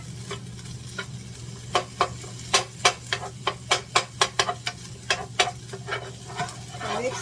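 A spoon stirring a garlic mixture for pineapple chicken, a run of sharp, irregular scrapes and clacks against the bowl over a low steady background hum.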